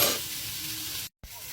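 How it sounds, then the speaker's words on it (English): Sausages frying in a pan, a steady bright sizzle and hiss that cuts out briefly before resuming. "Okay, so now while the sausages are still cooking"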